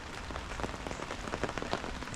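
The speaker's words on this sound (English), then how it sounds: "It's raining. It's raining." Steady rain patters across a fence job site, a dense, close hiss of drops with irregular louder spatters on nearby surfaces, heard on its own without voices.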